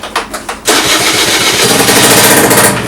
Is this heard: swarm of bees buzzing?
no